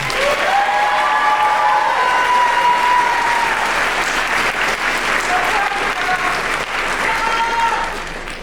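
A graduation ceremony audience claps loudly and continuously for Forest and Rangeland Stewardship graduates, with a dense, steady wash of applause and a few faint voices mixed in, tapering slightly at the end.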